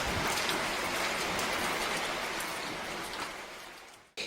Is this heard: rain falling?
yes